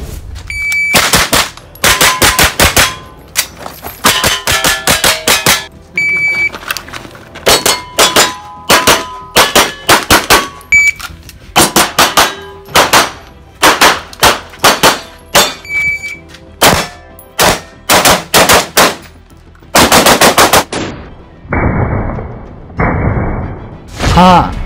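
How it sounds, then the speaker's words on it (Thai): Professional-style shooting training with loud, sharp gunshots in quick bursts and rapid strings, ringing metal target clangs between volleys, close and dominant throughout. "เขาก็ต้องเข้ารับการฝึกยิงปืนอย่างเช่นที่นักยิงปืนมืออาชีพก็ฝึกกัน"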